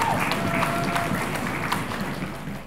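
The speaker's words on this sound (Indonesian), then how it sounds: "Tepuk tangan lagi untuk Dewan Juri." Steady applause from an audience at a high school quiz competition, a dense wash of clapping that holds evenly and fades slightly at the end.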